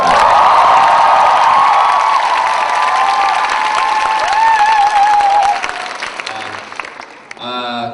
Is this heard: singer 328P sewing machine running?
no